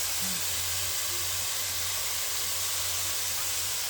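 Olive oil sizzling steadily in a hot pan, a constant loud broadband hiss with a low hum beneath and no talking.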